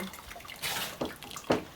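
Water trickling and dripping off freshly boiled cabbage and mushroom pierogi as they are lifted out to drain, a soft close splashing with two brief louder pours.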